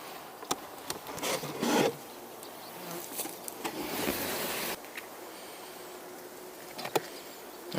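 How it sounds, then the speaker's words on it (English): Wasps coming and going from a beehive entrance at evening, where they raid a sugar-water feeder; a steady, close insect buzz with passing louder flybys and brief rubbing scrapes, no voices. "there's still a lot of wasps coming and going out of that place."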